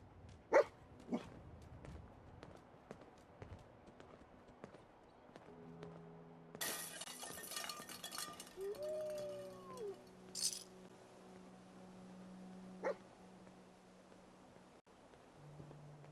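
In Fallout 4, the companion dog Dogmeat gives a few short, scattered barks over quiet game ambience, with low sustained tones and occasional clicks in the background.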